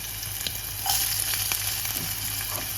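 Garlic and onion fry in hot oil, a constant close hiss and crackle that swells slightly partway through, with a few faint utensil touches and no speech.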